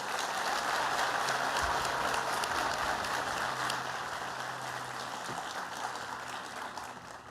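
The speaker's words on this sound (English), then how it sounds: "Let's take a moment to give our amazing graduates another well-deserved round of applause." Audience at a graduation recognition ceremony gives a steady round of applause, a dense clapping wash that holds evenly and fades slightly toward the end.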